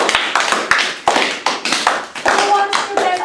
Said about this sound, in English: can you all clap for your friend?